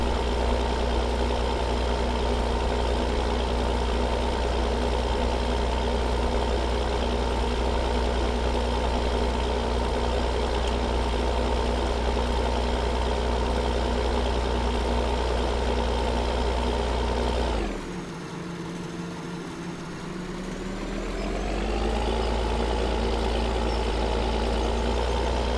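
Tractor engine in Farming Simulator 2013 drones steadily and loudly at a constant idle-like rumble, briefly dipping and dropping in pitch near the end before climbing back to a steady run.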